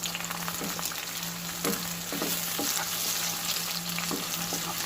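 Chopped onions and green chilies, with whole dried chilies, fry in hot oil, giving a steady close sizzle throughout with a few soft stirring scrapes.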